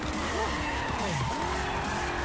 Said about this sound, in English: you can really throw your car into some cool power turns in this.